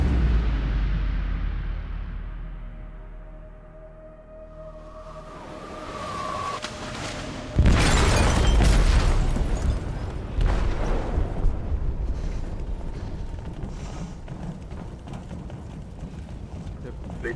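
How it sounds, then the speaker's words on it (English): In Detroit: Become Human, an explosive detonates in a ship's hold: after a low, quiet rumble, a sudden loud blast erupts and gives way to a sustained roaring, crackling aftermath, with voices heard in the scene. "They detonated an explosive in the hold."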